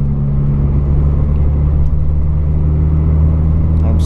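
A Mazda MX-5 drives and brakes on new brake calipers, giving a steady, close engine and road rumble with a constant low drone throughout and no clear squeal or distinct braking sound standing out.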